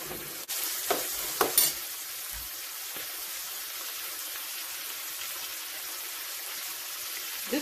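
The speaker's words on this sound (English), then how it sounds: "I'll just let the salt fish and the veggies cook a bit together before I add the ackee." Salt cod and vegetables fry together in a pan for Jamaican ackee and saltfish, a soft steady sizzle with a few utensil clinks and stirring scrapes early on, then quiet frying alone.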